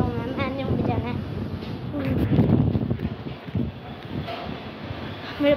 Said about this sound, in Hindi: अब हवा थोड़ी चल रही है